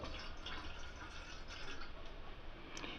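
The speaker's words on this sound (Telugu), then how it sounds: "ఒక బౌల్ తీసుకొని అందులో 1 కప్పు వాటర్ పోసుకోవాలి." Water pours steadily into a bowl as a measured cup is added while cooking sweet corn, a continuous close splashing trickle with no talk.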